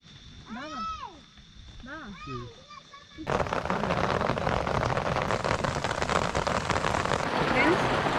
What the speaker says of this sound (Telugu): చూసారా వర్షం దిగేసింది.